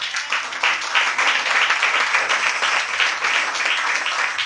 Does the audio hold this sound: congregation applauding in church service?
yes